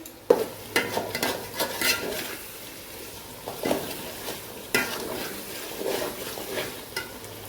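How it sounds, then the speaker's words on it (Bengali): Boiled, drained rice and lentils for khichuri frying in a pan, a steady sizzle broken by repeated stirring scrapes and clinks of a spoon against the metal, close and alone. "একটু ভেজে নেব।"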